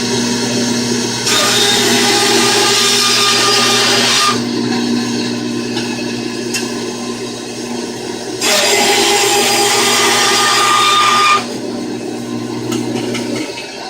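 A power tool hums with a low drone while cutting solid 5/16-inch fiberglass rod, rising into two long, loud, rough grinding passes separated by a quieter idle stretch.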